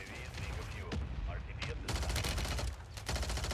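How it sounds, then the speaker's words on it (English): Mortar fire in the video game Call of Duty Warzone 3: rapid bursts of booming blasts and crackling gunfire, dense and fairly loud, rolling over one another in quick succession. "Mortar."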